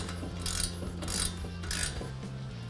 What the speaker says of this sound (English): I'm going to take my 17 millimeter socket and ratchet and use that to take them out